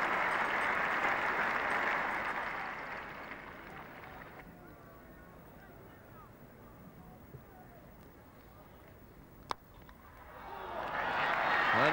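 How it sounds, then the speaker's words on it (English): A packed Lord's cricket crowd at the Lancashire v Warwickshire Gillette Cup final gives broad, distant applause that dies away into a low ground murmur with a sharp knock, then swells again at the close. "Brings a big round of applause from this packed house."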